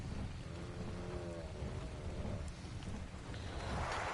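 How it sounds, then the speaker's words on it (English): Steady rain hisses in Ark: Survival Evolved at night, a dense, continuous wash of falling water with low rumbling underneath, fairly loud and without speech. "Rain and fog on top of nighttime."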